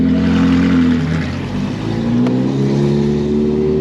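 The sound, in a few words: Ferrari 458 Challenge race car driving off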